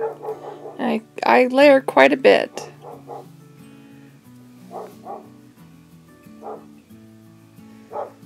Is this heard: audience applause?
no